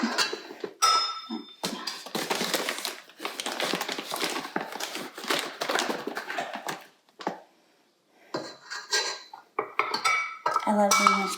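Donut batter is stirred in a bowl with a utensil, giving quick bursts of clinking and scraping against the bowl with short pauses between them.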